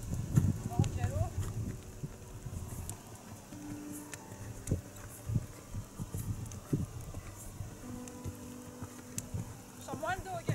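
Horse hooves beat in a quick, uneven rhythm on soft ground at a gallop during a bit-fitting session, with faint voices and rustling underneath.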